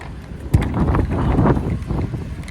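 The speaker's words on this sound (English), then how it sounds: "the wind is blowing this thing everywhere" Outdoor wind buffeting a microphone during a ring pull-up workout, rough low rumbling gusts that swell after a sharp bump and then ease, with no voices.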